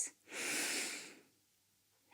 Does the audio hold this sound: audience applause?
no